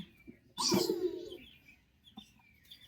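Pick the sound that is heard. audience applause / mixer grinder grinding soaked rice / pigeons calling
pigeons calling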